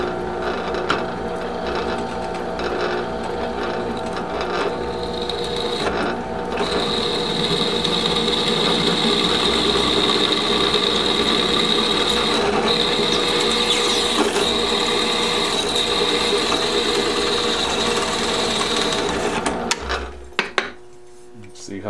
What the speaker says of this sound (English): Fire up the drill, get a hole in here.